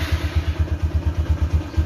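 A 2010 Honda MegaPro motorcycle, just started with its electric starter, runs close by with a rapid, even thumping idle pulse that stays steady throughout.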